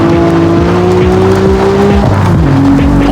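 Car drifting in the mobile racing game CarX Street, a loud continuous engine drone with rising and falling pitch as tires squeal and skid through the slide, no talking over it.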